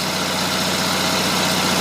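An Onan propane generator engine runs steadily at idle-like speed, a continuous low mechanical drone with a regular pulsing thump, close and fairly loud throughout.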